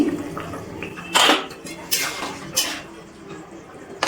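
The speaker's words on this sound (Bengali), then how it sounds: "ঢাকনাটা তুলে নিচ্ছি" A lid comes off a pot of potatoes cooking on a gas stove, making several sharp metallic clanks and rattles spaced over a few seconds against a soft background hiss.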